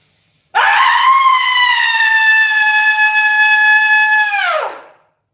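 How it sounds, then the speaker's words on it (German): A person screams the word "flowers" in German as one loud, sustained, shrill note lasting about four seconds before cutting off, alone with no other voices. "ich schreie mal Blumen."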